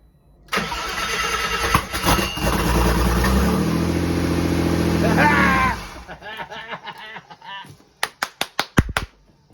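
A V6 bi-turbo engine mounted in the rear of a Mini cranks and catches, running loud and rough for several seconds before cutting out, followed by a few sharp, separate revs or pops near the end.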